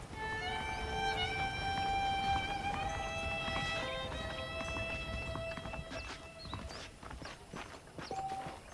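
On a ranch in Red Dead Redemption for Xbox 360, saddled horses shuffle and clop faintly and irregularly beneath sustained tonal background music.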